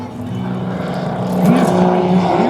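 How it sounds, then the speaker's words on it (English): A Learjet flies at an airshow in Rome, Georgia, its sustained jet roar rising in loudness and shifting in pitch as it passes, with a faint voice under the engine noise. "He is flying his Learjet."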